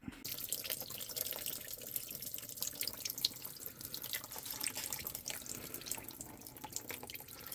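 Water pours through a high-flow funnel into the cooling system of a Jeep Comanche's 4.0 engine, a steady close rushing and gurgling flow with faint dripping, no voices.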